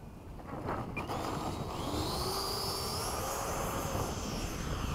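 A model Hawk jet aircraft flies in to land, its steady turbine whine and rushing roar holding loud and continuous with a slowly shifting pitch.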